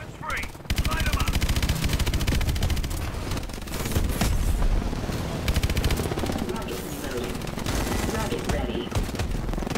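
Rapid automatic gunfire from a Call of Duty: Advanced Warfare battle, loud and sustained bursts of machine-gun fire with explosive booms, running nearly continuously under occasional voices.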